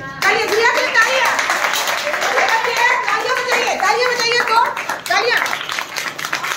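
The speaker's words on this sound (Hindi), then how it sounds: "तालियां बजाइए, तालियां बजाइए, तो तालियां, फिर से तालियां।" Children clap their hands together in a lively, uneven burst of many claps, with young voices chattering over it.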